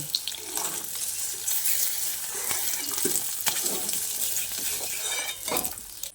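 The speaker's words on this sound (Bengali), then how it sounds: "ডিমের মধ্যে হালকা রং ধরে আমি ডিমগুলোকে ভেজে এবার তুলে নিচ্ছি" Eggs frying in oil in a kadai, giving a dense close sizzle with scattered spatters and light utensil scrapes and stirring clatter throughout, no talking.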